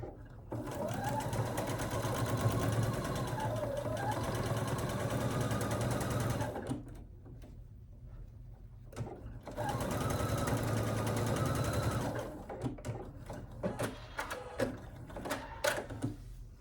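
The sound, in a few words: sewing machine stitching a 1/4 inch fabric seam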